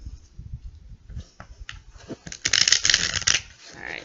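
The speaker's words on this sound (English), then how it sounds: "I'm going to shuffle the cards with your energies in mind" Tarot cards are shuffled in a brisk run of papery riffling clicks, sparse at first and then a dense, loud burst before easing off, close up with no voices.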